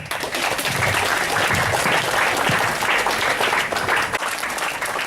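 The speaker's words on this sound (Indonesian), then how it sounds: "Tepuk tangan." Audience applause at a presentation about developing premium tourism in Labuan Bajo, Indonesia: dense, steady clapping from a crowd fills the room for about five seconds, loud and continuous with no talk.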